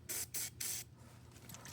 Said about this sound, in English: Just spray down this this trigger as well.